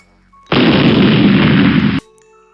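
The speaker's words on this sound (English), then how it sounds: "explosion," A loud explosion effect with a broad rumbling roar that holds steady for about a second and a half, then stops sharply.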